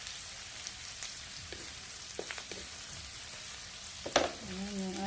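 Tomatoes sizzle as they are added to meat frying in a pan for a Filipino ginataang dish, a steady faint hiss broken by a few soft utensil clinks and a louder splash of sizzling near the end.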